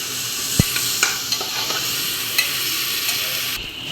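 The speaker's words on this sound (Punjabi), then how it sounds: "ਆਪਾਂ ਇਹਦੇ ਵਿੱਚ ਐਡ ਕਰਾਂਗੇ ਤੇ ਇਹਨੂੰ ਚੰਗੀ ਤਰ੍ਹਾਂ ਮਿਕਸ ਕਰ ਲਾਂਗੇ" Pasta being stirred with green chili sauce in a pressure cooker, a continuous soft sizzle under repeated clicks and scrapes of a spoon against the metal pot, close and steady.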